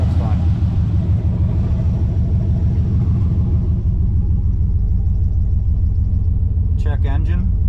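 Chevy Malibu wagon with a worn 350 V8 running rough, a loud close low rumble with an uneven throb throughout, plus a brief chirp near the end; people talk over it.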